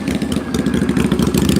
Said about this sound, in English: We gotta get past the motorcycle here